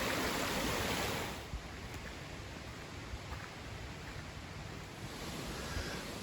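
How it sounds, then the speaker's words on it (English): A small creek swollen by recent rain flows beside a hiking trail, a steady broadband rush of water that eases slightly after the first second and continues alone without voices. "Trail goes right along this little creek, which I imagine is way more full because of recent rains"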